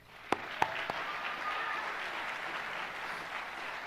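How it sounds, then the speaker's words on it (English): At the Guajome Park Academy high school graduation ceremony in 2023, a few distinct claps ring out before a large crowd joins in a broad, steady wash of applause that holds evenly to the end. "Let's get a round of applause."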